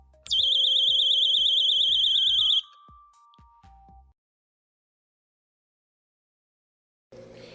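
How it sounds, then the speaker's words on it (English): A shrill electronic door-stop alarm, triggered as an opening door strikes its metal plate, warbles loudly and rapidly for a couple of seconds, then cuts off, leaving a few clicks and silence. "When the door opens, it will strike the metal plate, preventing the door from opening and activating the alarm."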